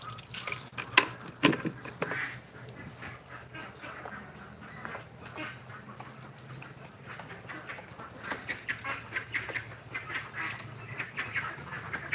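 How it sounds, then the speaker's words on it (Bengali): Ducks quack repeatedly in a noisy flock as they are fed, with overlapping calls and splashing, fairly close and continuous. "হাঁসগুলোকে এখন খাবার দিব"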